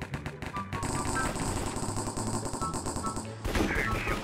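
Rapid gunfire in a Minecraft shooter match, dense bursts of loud cracking shots that repeat almost without pause, with a sharper blast near the end.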